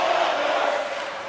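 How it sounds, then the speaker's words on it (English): Arena crowd in the NHL 24 hockey video game gives a brief, steady roar of cheering noise, moderately loud and even, with no clear speech. "You can feel the energy in this crowd."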